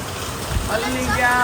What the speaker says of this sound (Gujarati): વરસાદનો અવાજ તમને આવતો જ હશે